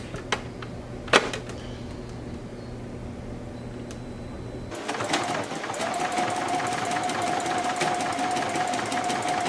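A Juki HZL-F600 sewing machine is switched on partway through and settles into a steady, fast, rapid-ticking stitching whir that continues to the end, close by, after a few isolated clicks and soft handling sounds.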